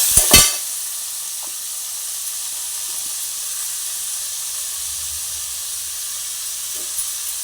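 Onion, green chili, tomato and curry leaves sautéing with garlic in hot oil start with two sharp clatters, then settle into a steady, hissing sizzle that holds close and even throughout.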